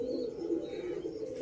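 A golden female pigeon coos softly in a brief, low, close-up call.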